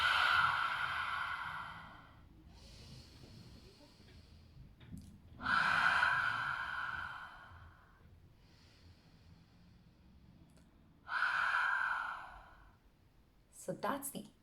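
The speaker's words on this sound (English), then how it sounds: "we'll make a big ha sound out through the mouth to fog up the mirror" Three forceful open-mouth 'ha' exhalations, like fogging a mirror, during ujjayi breathing practice, each a loud, breathy rush lasting about two seconds, evenly spaced and close with quiet gaps between.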